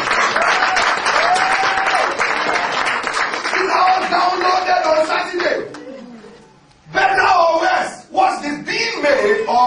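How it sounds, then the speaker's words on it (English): Congregation clapping and cheering at a church sermon, dense applause with voices mixed in, briefly dropping away before surging again near the end. "Clap your hand now."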